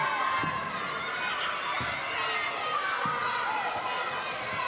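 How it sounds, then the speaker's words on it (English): Fired-up crowd shouting and cheering at an NWA Mountain State wrestling show in Pineville, West Virginia, with a continuous mass of voices, kids yelling, and a few thuds from the ring underneath. "A fired up crowd here in Pineville, West Virginia."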